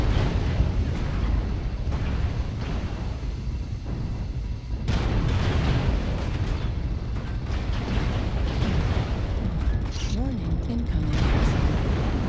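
Cannon fire and explosions in MechWarrior Online on a snowy map, a dense, heavy barrage of booming blasts and rumbling impacts that continues throughout, loud and close.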